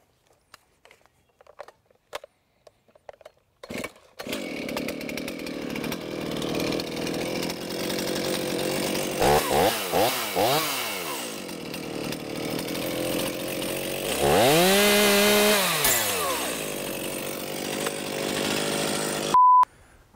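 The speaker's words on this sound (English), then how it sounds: "you got the chain brake on when you're ready to start up your chainsaw" A chainsaw starts up after a few quiet knocks, then roars loudly and steadily, its pitch rising and falling as it revs through the cut while felling a tree.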